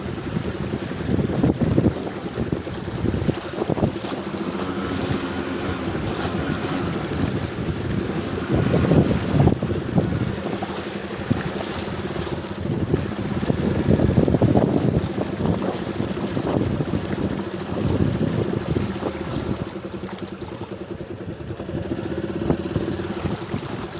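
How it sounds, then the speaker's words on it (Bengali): A motorcycle pushes through knee-deep floodwater on a flooded road, a constant low engine rumble mixed with churning, sloshing water and heavy wind buffeting the microphone throughout. "প্রায় আমার এক হাঁটু পর্যন্ত পানি, তার মধ্যে আমি যাচ্ছি।"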